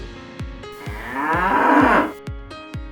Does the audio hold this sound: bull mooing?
yes